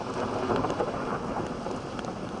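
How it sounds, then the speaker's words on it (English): Thunder rumbling through a thunderstorm with rain, a continuous broad, moderately faint roar and wash of rainfall with no voices. "When thunder roars, go indoors."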